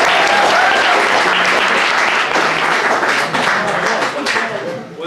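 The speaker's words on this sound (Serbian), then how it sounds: "Aplauz za njega." An audience at a panel discussion in a Bečej gymnasium breaks into loud, sustained applause. The dense clapping carries steadily for about five seconds and eases slightly toward the end.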